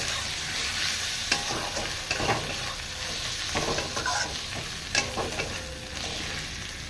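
Khichuri sizzles in a pot while a spoon stirs through it, with steady frying crackle and scattered scraping strokes against the metal, close and fairly quiet with no talk.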